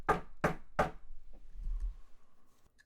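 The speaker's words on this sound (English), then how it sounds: "They knocked with a heavy fist." A heavy fist pounds three times on a back door, sharp evenly spaced thuds up close, followed by near silence.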